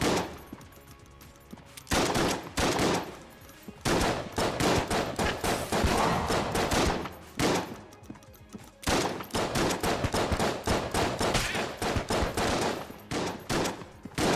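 Repeated bursts of gunfire from shotgun-wielding enemies in the top-down shooter Enter the Gungeon, loud volleys recurring in clusters across the span with brief gaps between salvos, no voices.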